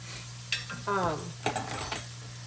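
A few scraping, clinking stirs of onions cooking in a pot, with faint sizzling beneath a steady low hum; no one talks.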